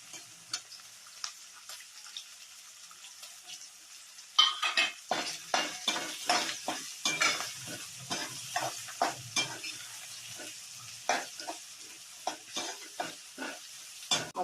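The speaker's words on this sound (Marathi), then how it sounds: "आता कांदा टाकायचा." Chopped onion goes into a hot tempering with peas for a puffed-rice breakfast. A quiet sizzle comes first, then a spoon stirs and scrapes the pan in a steady run of sharp, close clinks and scrapes.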